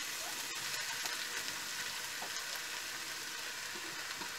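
Onions fry in about three tablespoons of hot oil in a pan, a dense, even sizzle that holds steady and close for several seconds with faint scraping underneath.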